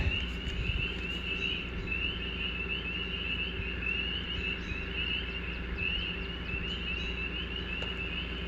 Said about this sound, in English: so you could hear the frogs and the toads